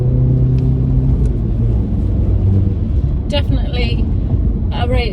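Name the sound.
VW Golf R engine during test drive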